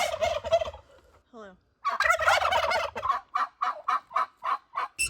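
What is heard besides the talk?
flock of turkeys and chickens gobbling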